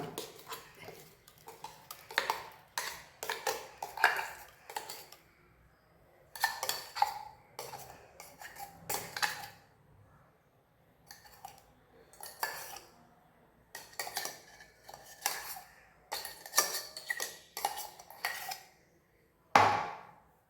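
A spoon stirring a ground paste of green mustard, curry leaves and yogurt into a pot of tomato pachadi, steady metallic scraping and clinking against the vessel in repeated bursts with short pauses, close and fairly quiet.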